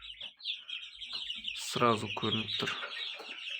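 Roosters and young chickens on a small farm cluck and call close by, a burst of loud crowing-like cackles in the middle over scattered chirps, with a brief spoken voice.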